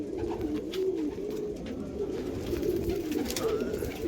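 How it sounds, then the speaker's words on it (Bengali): Pigeons coo steadily in a loft, their low burbling calls continuous and fairly close throughout, with no talk over them. "এই পায়রা"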